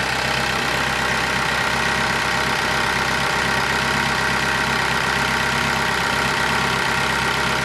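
A Ford Focus engine with a recent compression fault and replaced timing idles steadily and loudly up close, a constant low rumble with a faint mechanical ticking running throughout.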